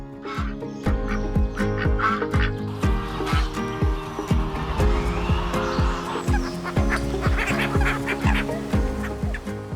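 Ducks on a duck farm in Iowa, a dense flock calling together in a steady stream of overlapping quacks and honks that carries on without a break throughout.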